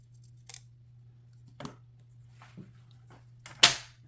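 A few sharp, isolated snips of scissors cutting aluminum foil tape, spaced about a second apart, with the last one louder and closer, over a low steady hum.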